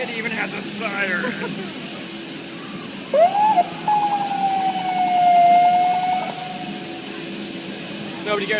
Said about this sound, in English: It even has a siren.